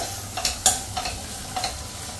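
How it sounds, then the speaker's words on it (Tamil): Ivy gourd (kovakkai) frying in a pan, a soft sizzle under a few sharp scrapes and clacks of a stirring spoon, close up with no talking. "கோவக்காவும் நல்லா ஃப்ரை ஆயிடுச்சு."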